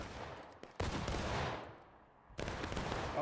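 Gunfire in the video game War of Rights, two or three loud close musket blasts whose echoes trail off between shots, with no talk.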